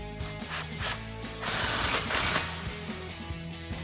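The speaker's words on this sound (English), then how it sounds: "now we just need to tighten our factory ball clamp using our impact and 13mm socket" An impact wrench with a 13mm socket tightens the factory exhaust ball clamp on a 2011-2014 Mustang GT, giving rapid rattling, hammering bursts with a louder continuous stretch in the middle.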